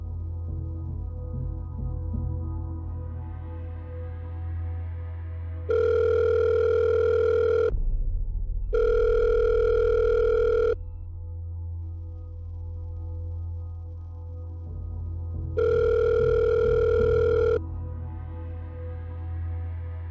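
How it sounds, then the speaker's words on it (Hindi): An outgoing phone call rings unanswered, three long steady ringback tones separated by pauses, clear and alone over a low background hum. "एक काम करते हैं, इस नंबर पे कॉल करके देखते हैं।"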